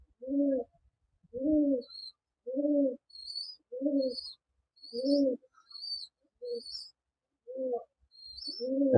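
Rajshahi Giribaz pigeons coo in a slow, regular series of soft, throaty calls spaced about a second apart, close by, with faint higher chirps in the background.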